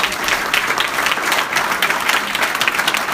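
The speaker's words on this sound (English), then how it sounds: "So a round of applause for all the young people at the back." Loud, steady applause from an audience at a talk on Pakistani Americans, many hands clapping densely together without pause.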